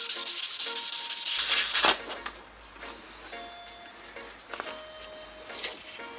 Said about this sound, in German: und dann schleifen wir das auch